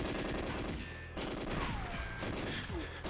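Gunfire rattles in the GoldenEye 007 video game, with continuous rapid bursts of shots and a steady background hum throughout.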